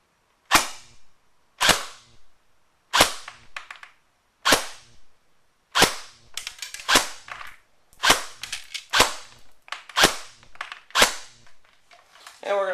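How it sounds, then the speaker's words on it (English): An AGM MP40 airsoft gun fires on semi-auto, sharp snappy shots, about a dozen single cracks spaced roughly a second apart, coming quicker toward the end, loud and close. "Alright, so this is the MP40 on semi-auto."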